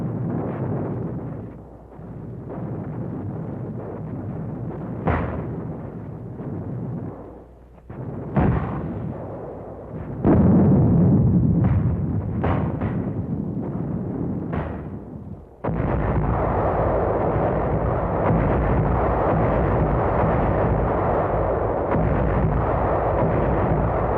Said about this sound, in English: We called back for mortars and 155s.